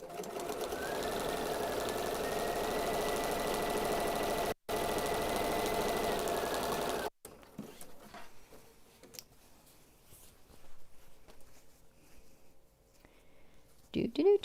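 A sewing machine stitches the full length of two quilt backing pieces, running as a steady, even mechanical whir for several seconds with a brief pause. It then stops, leaving quiet handling noises and someone talking.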